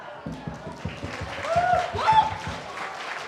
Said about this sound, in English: let's give a round of applause to everyone sitting in the audience for their generous support